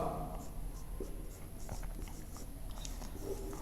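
Marker or chalk writing on a classroom board during a physics lesson on electric current, with short scratchy strokes repeating steadily at close range, no talk over it.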